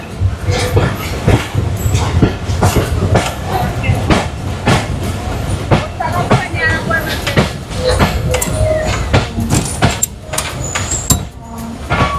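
A train at Hili railway station near the Bangladesh-India border, with a loud, steady rumble broken by rhythmic clacking of wheels over rail joints and scattered metallic squeaks.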